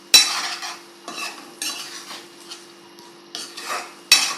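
A spoon stirs potato tomato curry in a pan, boiled potatoes mixing with a soft sizzle; several distinct scraping strokes come in bursts at close range against a faint steady hum, with no voices.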